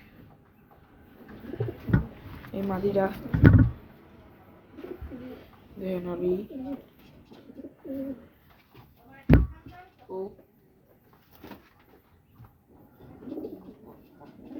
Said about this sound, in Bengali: সুন্দর কবুতর অনেক।